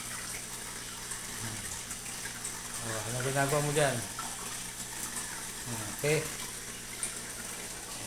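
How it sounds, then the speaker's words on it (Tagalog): Water flows and gurgles through a multi-tank aquarium setup after a water change, a steady trickle with a couple of louder burbling surges, while people talk briefly. "So, magsisirculate na ngayon yung tubig niyan."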